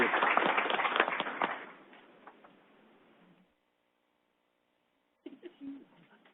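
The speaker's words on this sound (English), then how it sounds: "If you guys just have everyone a round of applause for our panel." An audience applauds a panel at a discussion event, a burst of dense clapping that swells at first, fades over a few seconds into silence, then returns briefly and faintly.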